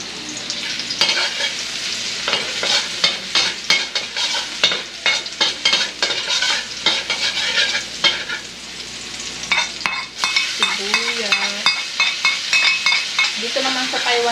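Garlic frying in a pan for a Napa cabbage stew, loud constant sizzle with busy, rhythmic stirring and scraping of a utensil throughout, close up and without talk.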